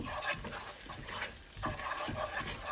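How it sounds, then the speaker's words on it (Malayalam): Potato and chicken masala being stirred in a pan: steady scraping and shuffling strokes in uneven bursts with a faint sizzle underneath, close and fairly loud, with no talking. "അതിൻ്റെ കൂടെ നന്നായിട്ട് കൈവിടാതെ ഇളക്കി കൊടുക്കാം"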